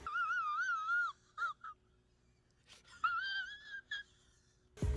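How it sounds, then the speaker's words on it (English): A man wheezes in drawn-out, wavering, high whistling breaths, several strained gasps with pauses between them, close and loud, ending in a sudden thump. "Cut to wheezing man."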